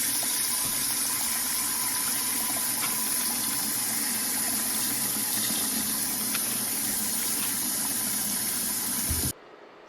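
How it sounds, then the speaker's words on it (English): Steady hissing rush of running water filling a sink to wash leaves, fairly close and constant, cutting off abruptly near the end. "I'm gonna drain it, fill it up again"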